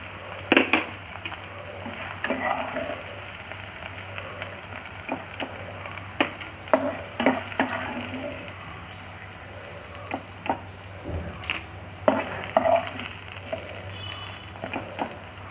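Brinjal pieces fry in hot oil until browned, with a soft, steady sizzle broken by scattered clicks and scraping knocks of a utensil moving the pieces in the pan.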